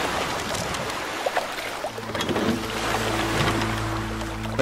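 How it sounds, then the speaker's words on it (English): A boat drifting down a river in The Flame in the Flood, with continuous rushing water and splashing, plus a low steady hum rising toward the end. "Time to hop on the boat and go down the river."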